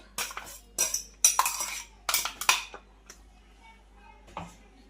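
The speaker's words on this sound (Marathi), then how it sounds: "ही चाळणीच्या साह्याने आपण चाळून घेऊया" A metal spoon scrapes and taps against a sieve, straining bottle gourd soup paste in short repeated bursts, close and clattery, with quiet pauses between strokes.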